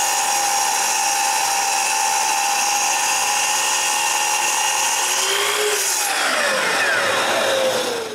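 A power saw whines loudly and continuously while cutting a wooden workbench press part to length, its pitch dropping sharply near the end as the cut finishes and the blade spins down.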